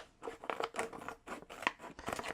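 Scissors snip open a liquid yeast pack for homebrewing beer, several quick close crisp cuts in an irregular rhythm.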